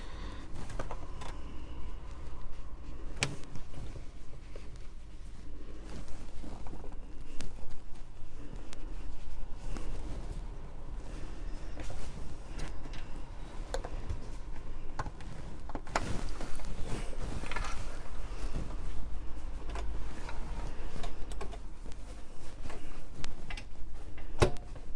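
A sewing machine stitches binding onto a free-motion quilted cushion cover, its needle ticking steadily and fairly close for the whole stretch with no talking.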